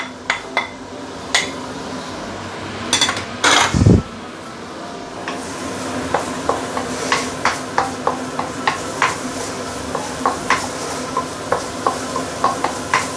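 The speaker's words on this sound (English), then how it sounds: "We want it to saute our ginger and garlic." Ginger and garlic sautéing in pork fat in a claypot, a soft sizzle under repeated sharp clinks of a utensil scraping and stirring against the pot, with a brief louder clatter early on.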